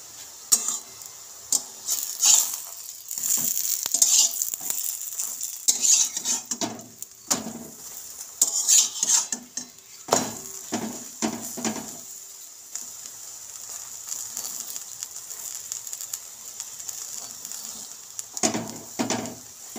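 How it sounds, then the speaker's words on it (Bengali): An aloo paratha frying in oil in a pan gives a steady hiss of sizzling, broken by bursts of louder crackle and a few scraping, clattering touches of a utensil against the pan, with no talking. "পরোটাটা আমি এবার ভেজে নেব,"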